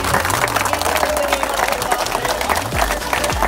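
Applause from a crowd at a cricket tournament prize ceremony, a continuous close clapping wash throughout with some voices in the mix.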